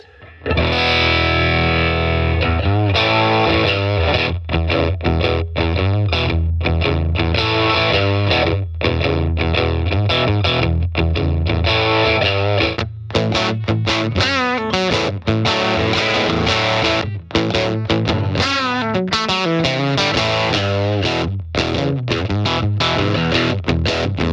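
Electric guitar through a tweed amp simulator with an Echoplex-style preamp boost, driven into breakup, riffs and chords played loud and continuous with gritty distortion and short pauses between phrases.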